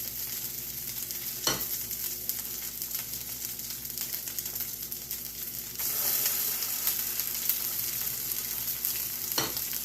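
Black bean burgers fry in a hot skillet with a steady close sizzle and crackle, broken by a couple of sharp scraping stirs, the frying growing a touch louder partway through.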